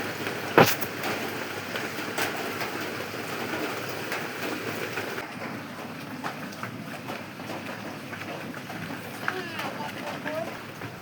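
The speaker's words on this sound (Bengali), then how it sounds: "দেখেন কত পরিমাণ বৃষ্টি নামছে।" Heavy rain pours down in a dense, steady hiss with scattered louder drops hitting surfaces, and a voice occasionally faint underneath.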